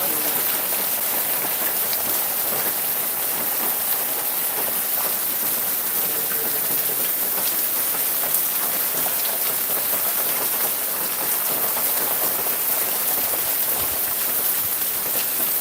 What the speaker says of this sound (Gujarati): ત્યાં પણ વરસાદ ચાલુ છે અત્યારે